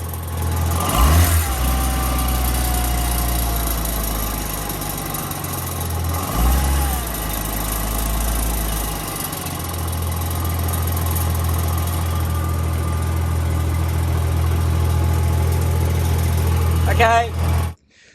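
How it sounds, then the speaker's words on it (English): Front turbo wastegate on a BMW N54 engine rattling, a steady metallic chatter under loud engine drone that swells and dips a few times across the span before cutting off abruptly at the end. "We have identified as the front turbo wastegate is rattling like a mother trucker."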